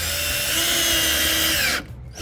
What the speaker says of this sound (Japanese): 下側をねもうドリルで止めたいと思います